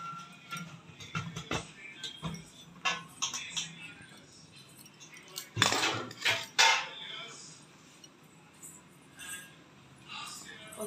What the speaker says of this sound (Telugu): ఇప్పుడైతే మనము అన్నీ వేసేసి కలుపుకుందామండి.